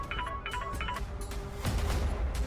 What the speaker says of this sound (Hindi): कोमल का फोन